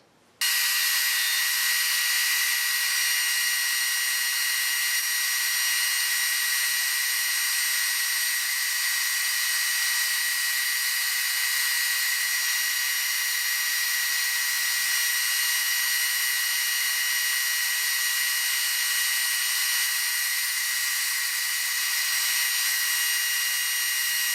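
A band saw with an Accu-Slice accessory runs steadily while slicing a long birch board into thin strips, giving a constant, high, whining buzz that holds close and unbroken after a sudden start.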